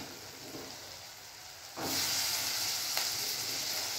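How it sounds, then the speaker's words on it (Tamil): Turkey berries (sundakkai) tossed into a hot pan and sautéed, a steady frying sizzle that jumps louder as they land and keeps hissing with a brief stir, no talking. "இப்போது சுண்டைக்காய் சேர்த்து நல்லா வதக்கிக்கோங்க"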